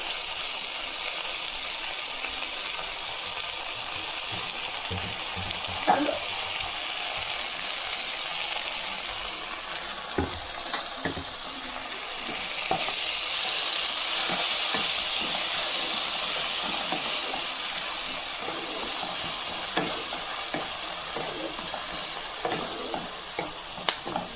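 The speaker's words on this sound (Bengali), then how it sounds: "আদা রসুনটা ভাজা ভাজা হয়ে গেছে" A ginger, garlic and tomato paste fries in a pan over onions for a curry, giving a continuous close sizzle with scattered stirring scrapes and clinks and a brief swell of hissing midway, no voices.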